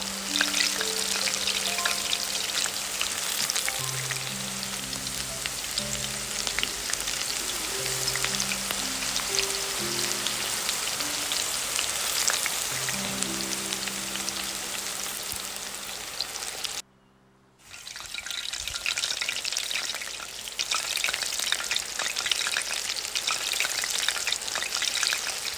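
Potato croquettes deep-frying in hot oil give a steady, dense crackling sizzle that runs throughout, with soft music in the background and a brief drop to near-silence just before the end.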